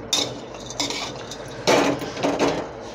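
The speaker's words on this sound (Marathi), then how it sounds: "आता आपल्याला हे खोबरं भाजून घ्यायचं आहे." Grated coconut being dry-roasted in a pan for Marathwada-style kala masala, with a spoon scraping and clinking against the metal in several short bursts, close and fairly loud.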